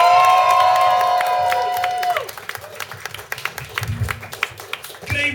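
At a rock club, a crowd cheers and claps as a stand-up comedian takes the stage. A tonal sweep and music fade out first, then scattered, uneven claps and whoops follow with voices mixed in.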